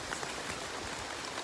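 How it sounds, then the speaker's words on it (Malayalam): Heavy monsoon rain falls on a stream, giving a soft, steady hiss of drops on water and the surface around it. "നല്ല മഴയാണ്"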